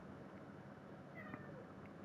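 A cat meows indoors in a quiet room, a couple of short, faint calls heard over a low steady background hiss with no talking.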